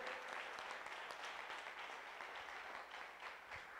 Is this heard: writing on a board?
no